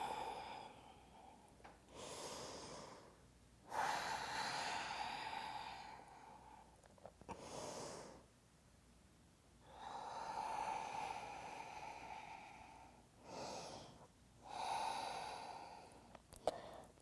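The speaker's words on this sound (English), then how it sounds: "5 breaths." Five slow, audible breaths during an Ashtanga yoga pose, each a long airy inhale or exhale through the nose with quiet pauses between, close and soft with no talking.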